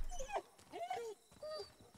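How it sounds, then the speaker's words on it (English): Dog whimpering in Call of Duty: Modern Warfare (2019) during the Wolf's Den mission: a few short, high, wavering whines close by, quiet and broken by brief pauses, with voices mixed in. "Poor dog? Really, Captain Sun?"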